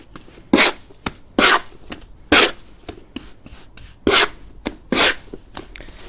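Brick mortar is worked by hand in a container, giving repeated short scraping and slapping strokes at an uneven rhythm, close and fairly loud, with quiet pauses between strokes.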